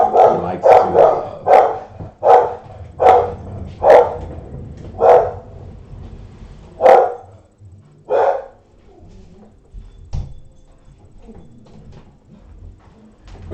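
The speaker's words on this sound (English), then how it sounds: "He loves his barking" A dog barks about nine times in a steady run, loud and close, then falls quiet, leaving faint background noise and a single soft knock.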